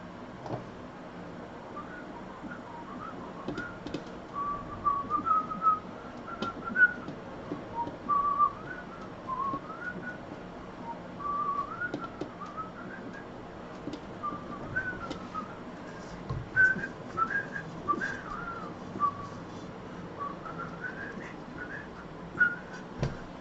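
A person whistles a bouncy melody for a long stretch, the tune rising and falling steadily over faint background noise.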